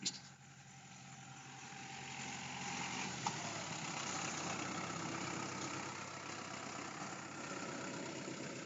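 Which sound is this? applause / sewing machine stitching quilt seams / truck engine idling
truck engine idling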